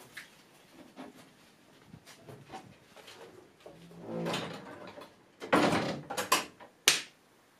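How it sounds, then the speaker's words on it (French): Wooden knocks and sliding clatter, followed by a door being shut against the wind with a sharp thump near the end, close by in a quiet school classroom. "Mais il y a du vent, je vais fermer la porte."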